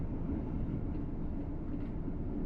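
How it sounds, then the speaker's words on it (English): A passenger train in a railway simulator game rumbles past with a low, steady mechanical roar of moderate loudness, heard alone with no talking. "Oh, is there a train coming?"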